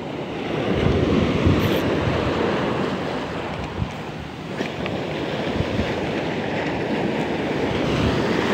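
Strong ocean surf roars steadily and loudly at a fishing spot, a broad continuous wash with wind buffeting the microphone and no talk.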